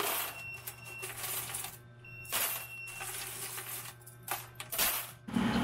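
Metal coins clink and rattle continuously as a hand scoops them up from a pisonet coin-operated computer rental machine, a busy jingling close by.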